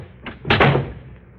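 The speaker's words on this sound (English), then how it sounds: "I slammed it." A door is slammed shut in an old radio mystery drama. A single heavy, close thud and rattle is heard alone, after a lighter knock just before it.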